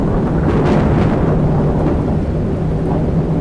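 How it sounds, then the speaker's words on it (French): Loud, sustained thunder rumbles through a storm, a dense roar with rain hiss that fills the clip from start to end with no voices. "C'était le tonnerre le plus immense de la planète Terre."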